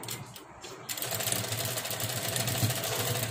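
A sewing machine attaching a hook to a garment starts up after a quiet moment, then runs in a steady, moderately faint mechanical whir with a fast repeating clatter.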